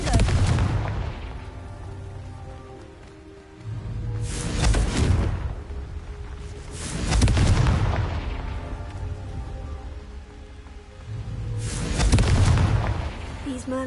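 In Hogwarts Legacy, the Confringo blasting spell sets off four heavy booming explosions spaced several seconds apart, each a sharp burst followed by a rumbling decay over a low background drone.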